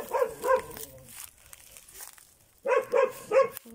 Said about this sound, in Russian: Где-то у нас тут пищит щенок.